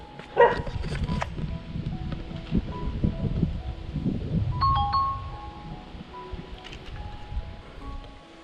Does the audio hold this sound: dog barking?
yes